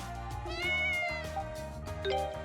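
A cat meows a few times in the video game Ys 4: Memories of Celceta, clear tonal cries over steady background game music.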